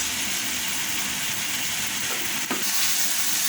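Soy sauce mixture sizzling and frying in a pan for fried liver, with a steady broadband crackle and occasional stirring scrapes, close and continuous with no talk.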